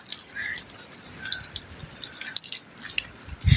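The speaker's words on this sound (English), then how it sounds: "I'm watering, Icho." Plants in a garden are being watered, with close drips and trickling splashes over a soft hiss of water and a brief heavier splash near the end.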